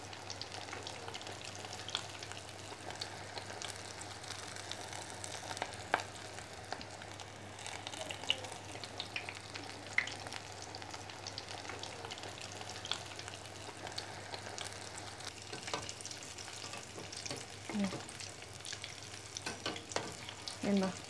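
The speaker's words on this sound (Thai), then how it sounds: "มันร้อนแล้วก็เอาอันกุ้งลง" Steady soft sizzling and bubbling of shrimp cakes deep frying in hot oil, continuous and close, with occasional small clinks and stirring sounds.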